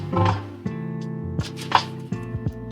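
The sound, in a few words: bacon and chorizo sizzling in grease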